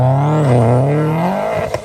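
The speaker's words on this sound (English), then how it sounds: "The Subaru WRX made that thumping boxer sound world famous in rally stages." Subaru WRX boxer engine with unequal-length exhaust headers, a loud close throbbing drone that shifts in pitch as it revs, ending in a few sharp pops.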